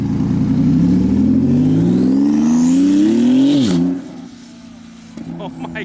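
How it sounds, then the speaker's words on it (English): A modified ruby red Ford GT500 leaving a car show in Dallas revs loudly nearby, its engine note rising steadily for several seconds before dropping off as it pulls away, leaving quieter background noise. "The very nice ruby red GT500 rolling out."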